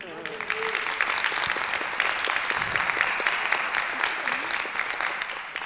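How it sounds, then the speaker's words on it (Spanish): Applause from an audience greets the Majin Buu character at a live science show, a dense, steady patter of clapping that lasts the whole stretch, with voices mixed in. "Señoras y señores, un aplauso para el monstruo Buu"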